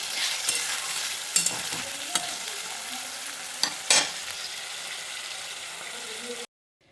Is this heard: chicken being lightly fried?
yes